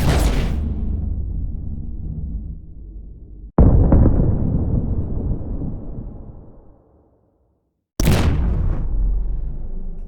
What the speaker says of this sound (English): Let's audition a few of these explosions.